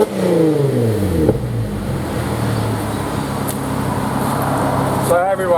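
Holden VE with a 3.6 litre Alloytec engine and stainless exhaust, warm engine blipped with rising and falling revs, loud and close with a throaty bark, then idling before another short rev.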